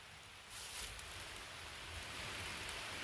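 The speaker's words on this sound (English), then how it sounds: "And it's raining out here now." Steady rain falling outdoors near Whitewater Falls, a soft, even hiss that swells slightly after the first half second and continues faintly throughout.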